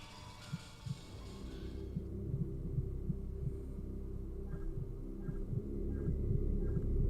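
A rhythmic heartbeat thumps steadily in the Haunting Ground survival horror game, low and pulsing over a droning hum, with soft beats repeating throughout.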